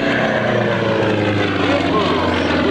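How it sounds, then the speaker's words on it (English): A Sukhoi SU-31 aerobatic plane with a medium-sized engine flies at an airshow, its steady, loud propeller drone filling the air continuously, with an announcer's voice underneath. "the medium engine-powered Sukhoi SU-31"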